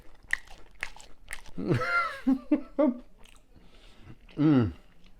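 Chewing and eating mofongo, the Puerto Rican mashed plantain dish, with crunchy bites and mouth sounds close to the mic; a few brief vocal murmurs of enjoyment break in between chews.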